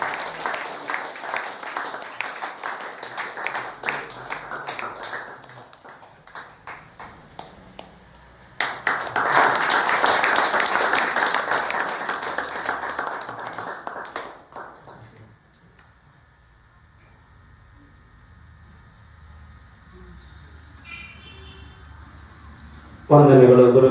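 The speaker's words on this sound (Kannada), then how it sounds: "ಚಪ್ಪಾಳೆ ತಟ್ಟು ಗುರುಗಳನ್ನು ಅಭಿನಂದಿಸೋಣ." An audience in church applauds to honour the priest at a St. Lawrence novena Mass, with moderate bursts of clapping that swell, fade and return, mixed with softer talk in the hall.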